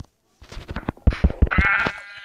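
Minecraft sheep give several short, quavering bleats in quick succession, clear and close, ending in a longer drawn-out bleat.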